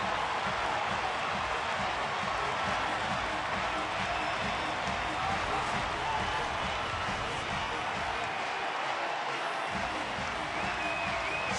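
A baseball stadium crowd, San Francisco at Colorado, roars steadily after a home run. The cheering is a broad, sustained wash of noise from many people, heard continuously with some talk partly under it.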